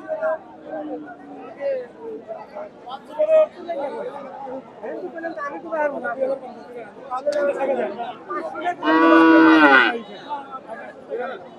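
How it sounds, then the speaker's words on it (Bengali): Friesian bulls at a busy cattle market, with one loud, long moo rising near the end over steady close chatter and bargaining voices. "এই যে দুইটা ষাঁড় ফ্রিজিয়ান জাতের ষাঁড়, দুটা একই সাইজের।"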